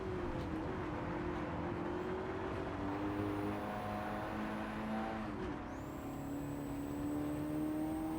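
Race car engine in Gran Turismo 7 during the Master A5 licence test, a steady sustained engine note held at high revs with faint gear-shift pitch changes, loud and continuous with no talk.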